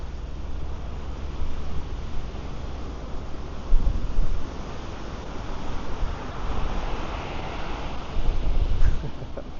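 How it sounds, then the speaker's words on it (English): Waves wash over a pebbly shale beach on England's northeast coast, a continuous rushing roar with gentle swells, mixed with heavy wind buffeting the microphone and no voices. "Lovely sound of the shale beach."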